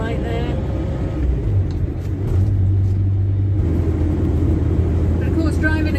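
A Morris Minor named Dorothy motoring along an English road on a spring day, its engine a steady low rumble that stays loud and constant throughout, with no talk over it.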